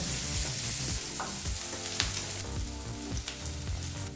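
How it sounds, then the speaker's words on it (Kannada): Finely chopped onion frying in oil over a medium flame, a steady close sizzle throughout with occasional stirring scrapes and clinks, no voices. "ಬಹಳ ಚಿಕ್ಕದಾಗಿ ಕಟ್ ಮಾಡಿದಂಥ ಒಂದು ಈರುಳ್ಳಿನ ಹಾಕಿ ಮೀಡಿಯಮ್ ಫ್ಲೇಮ್ನಲ್ಲಿ ಎರಡು ನಿಮಿಷ ನೀಟಾಗಿ ಫ್ರೈ ಮಾಡ್ಕೋಬೇಕಾಗುತ್ತೆ"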